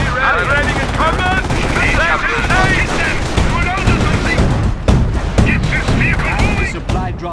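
Heavy machine gun bursts and rapid gunfire crackle loudly and continuously through a World War II game battle near Oosterbeek during Operation Market Garden, with shouted voice lines from soldiers mixed in over the dense combat noise.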